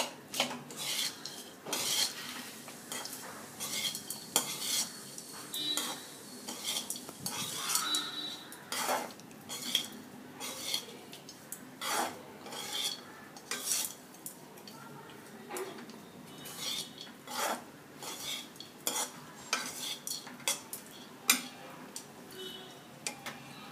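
Lime rice mixed in a pot, a steady series of metal spoon scrapes and clinks against the vessel, close and fairly quiet, repeating irregularly throughout with no talking.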